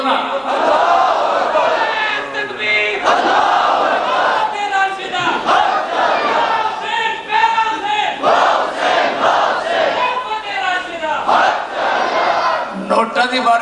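A large crowd at a religious speech chants slogans in praise of Hussain, loud and continuous, with many voices shouting in rhythmic waves that barely pause across the whole stretch.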